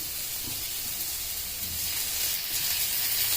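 Half a spoon of turmeric powder and spices sizzle softly in hot oil for a bhorta, a steady faint hiss with light crackle and no speech.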